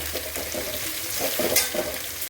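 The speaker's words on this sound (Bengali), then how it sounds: "চলো পেঁয়াজটা একটু লালচে লালচে করে ভেজে নিই" Onions for a mutton curry fry in hot oil with a close, steady sizzle, broken by a few rhythmic stirring scrapes over about two seconds.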